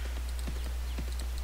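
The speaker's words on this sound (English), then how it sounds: "So we're going to Garage on our horse" Horse hooves clip-clop in the video game Mabinogi, several quick, evenly spaced hoof strikes heard close and clear over a constant low background hum.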